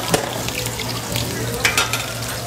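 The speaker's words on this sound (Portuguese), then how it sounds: "um pouquinho de pimenta verde pra fritar." Onion and green pepper fry in a pan with a steady close sizzle, broken by a few brief clatters of stirring or utensils.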